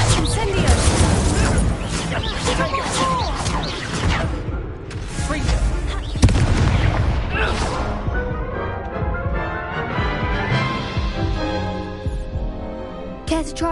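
Incendio fire spells cast during a Hogwarts Legacy duel, loud whooshing magical blasts and crackling bursts with a sharp crash near the middle, under continuous game voices and shouted incantations.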